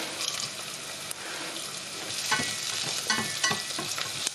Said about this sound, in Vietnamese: Khi ớt với lại tiêu xào trong dầu nó sẽ bốc lên một cái mùi thơm